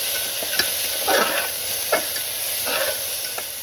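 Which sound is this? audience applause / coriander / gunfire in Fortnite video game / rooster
coriander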